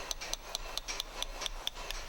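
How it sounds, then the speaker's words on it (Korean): A craftsman hammers metal handicrafts in an old bazaar off Imam Square in Iran, giving a steady run of sharp, evenly spaced metallic taps, about nine strikes over a couple of seconds, close by and alone. "장인의 정교한 망치질에 따라 금속 공예품이 만들어지고 있다."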